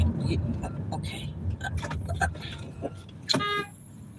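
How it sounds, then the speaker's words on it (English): A car horn sounds once in a brief, sharp honk from a nearby vehicle on the road near the end, following steady talk inside a car. "I hate when people honk me like that"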